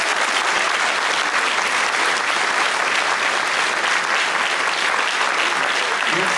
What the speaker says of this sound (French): qu'on les applaudisse bien fort.